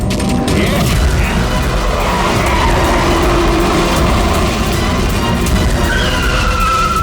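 A car races through a chase near a village, engine roar and road noise loud and continuous, with a screeching skid-like squeal rising toward the end.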